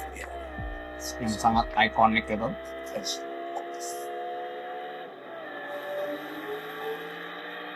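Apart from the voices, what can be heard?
Lexus LFA engine sound recording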